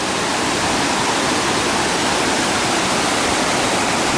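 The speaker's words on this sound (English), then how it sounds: "Little side branch coming off the mountain into the river." A mountain side stream near Ramsey Cascades rushes into a river with a steady, dense, loud broadband wash, close and unbroken, with no voices.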